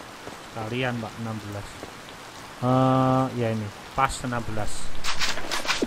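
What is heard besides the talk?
rain falling in Harvest Moon Light of Hope video game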